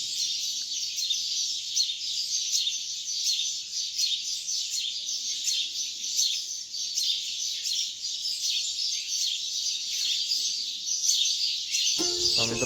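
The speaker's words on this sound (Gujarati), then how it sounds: "મિત્રો તમે સાંભળી શકો છો અત્યારે પક્ષીઓનો કિલ્લોલ." Many birds chirp and tweet continuously along a village footpath in Ingorala, a dense, steady chorus at moderate distance, with a brief clatter right at the end.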